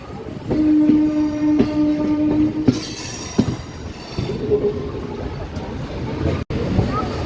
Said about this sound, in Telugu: మళ్ళీ ఈ ట్రైన్ ఇప్పుడు కాకినాడకి అయితే వెళ్ళిపోతుంది